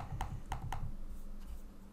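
A computer keyboard tapped during graphic design work, three distinct clicks in quick succession followed by fainter keystrokes, close and with no talking.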